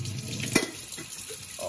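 Tap water runs into a KRUPS coffee maker's reservoir, a steady close splashing stream with a brief louder gush early on and no talk.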